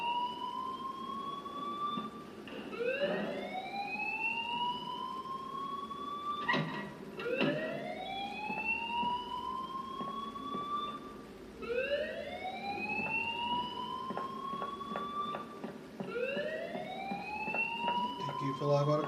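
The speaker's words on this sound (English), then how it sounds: "please turn off that alarm since that's your job" An alarm blares in the video game Life is Strange, a repeating rising siren-like whoop cycling every couple of seconds, steady and moderately loud throughout with faint background noise.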